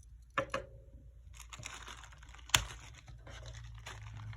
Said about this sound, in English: for cover, we have an emergency rescue blanket, the Mylar blankets